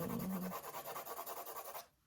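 A pencil shading on paper, quick rhythmic back-and-forth scratchy strokes, close and soft, stopping abruptly at the end.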